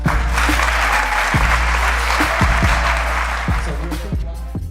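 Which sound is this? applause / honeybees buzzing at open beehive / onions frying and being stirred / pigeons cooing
applause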